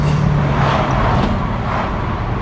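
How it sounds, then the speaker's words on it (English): A steady, dense engine roar with a low drone fills the clip continuously, loud and close, with no voices; the induction and exhaust of a Stage 2 tuned 420 bhp BMW 335i Coupe E92. "you can actually hear the induction noises"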